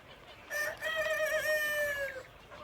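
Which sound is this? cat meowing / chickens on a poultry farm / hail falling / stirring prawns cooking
chickens on a poultry farm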